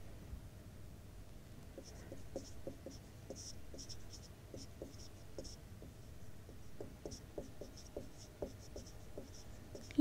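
Chalk or marker writing math terms on a classroom board for a Class 10 arithmetic progressions lesson, a steady run of short scratchy strokes in quick irregular rhythm, close and fairly quiet, with no talking.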